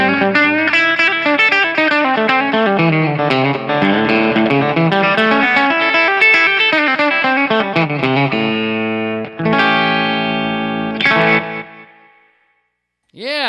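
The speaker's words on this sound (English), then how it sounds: "Yeah, pretty standard digital delay right there with just a tiny, tiny bit of modulation." Electric guitar through a Nemesis digital delay pedal with slight modulation: a melodic run of loud, close notes, then a few chords whose echoes trail off into silence before a final strum.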